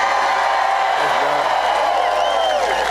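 Rally crowd at a President Trump event in Winston-Salem, North Carolina, cheering and whooping in a dense, continuous roar that fills the whole moment.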